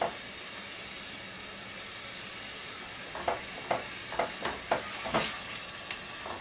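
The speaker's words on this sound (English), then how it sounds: "That sizzle means it's ready." Minced onion sizzles and fries in hot oil, a steady close hiss broken by several louder scraping stir strokes in the pan toward the end.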